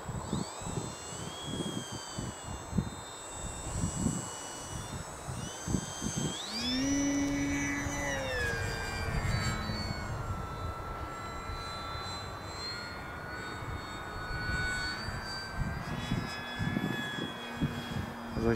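Small model airplane engine, a Team Tundra fixed-wing, droning steadily as it tries to land in strong wind, with pitch rising and falling as the throttle changes and wind noise underneath.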